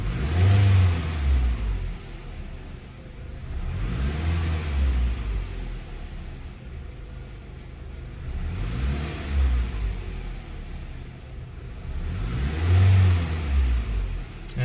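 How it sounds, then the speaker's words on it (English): A Toyota Camry engine is revved repeatedly in a garage, four rising and falling swells over a steady idle rumble, loud and close with no talk. "So we're gonna rev it up."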